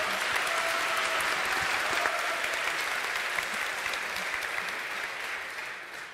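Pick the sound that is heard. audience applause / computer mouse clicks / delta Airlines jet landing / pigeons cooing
audience applause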